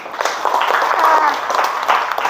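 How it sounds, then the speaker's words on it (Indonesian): A group claps hands together in steady, continuous applause for a couple of seconds, fairly close, with faint voices mixed in. "Tepuk tangan dong."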